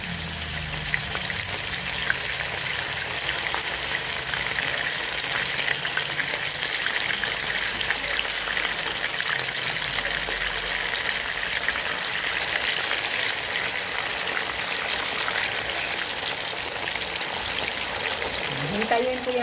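Chicken pieces half-cooking in a pan give off a steady, broad sizzle that keeps going the whole time, with a faint voice speaking now and then underneath.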